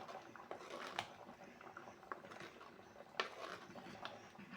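A pot of curry with okra, brinjal and sambar powder simmers close by, giving soft, faint, continuous bubbling and popping with small irregular plops.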